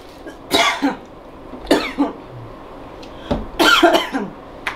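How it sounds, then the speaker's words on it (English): Several sharp, separate coughs from one nearby person in a quiet room, with a pause between each burst and a throat-clearing quality to the last ones. "Sorry, I had to cough"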